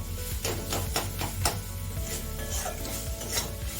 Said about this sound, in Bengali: এটা আমি প্রায় পাঁচ সাত মিনিট মতন ভাজছি আস্তে আস্তে আস্তে আস্তে এটা কষে এসছে